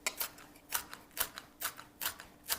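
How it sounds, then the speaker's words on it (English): A knife chops cilantro on a cutting board for cilantro lime rice, about ten quick, crisp taps in an uneven rhythm, close and fairly quiet, with no talking. "And then we're going to chop it."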